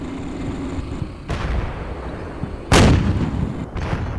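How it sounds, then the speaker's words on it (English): Heavy gunfire and blasts in a modern military strategy video game, with rounds striking tanks: a sharp loud bang, a sustained rumble, then a second, louder crack followed by decaying roar. "My tanks were also getting pinged by something, probably a heavy machine gun, but there were definitely rounds bouncing off of my tanks."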